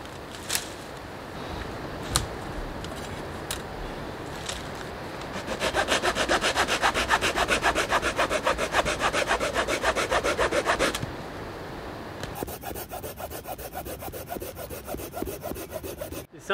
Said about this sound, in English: There's something to be said about a silky saw, particularly the Pocket Boy, is that when they cut real deep